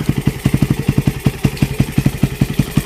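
A Raider150 motorcycle fitted with a 30mm open carburetor idles close by, a quick, even, throbbing putter with regular exhaust pulses and a slight metallic clatter.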